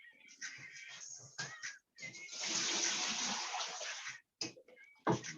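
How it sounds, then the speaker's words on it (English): Water drains off asparagus in a kitchen, a steady hissing splash that swells for a couple of seconds and then stops, followed by a few soft clunks nearby. "I'm gonna drain the water off of it."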